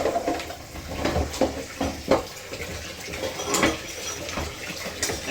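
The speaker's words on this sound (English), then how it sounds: "I am just going to put everything onto soak now" Water runs into a sink where dishes and pans are left to soak after cooking carbonara, a continuous splashing rush broken by occasional clinks and knocks of cookware.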